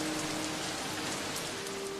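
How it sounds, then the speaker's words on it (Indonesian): Sudden rain falls steadily as a dense, even hiss on surfaces at a seaside beach spot, with no talk. "karena hari ini tiba-tiba hujan."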